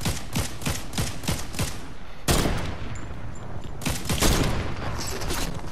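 Rapid bursts of gunfire from Fortnite, a quick run of sharp shots followed by a louder burst and more scattered shots, loud and close with no talk over them.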